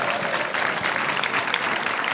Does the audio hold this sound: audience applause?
yes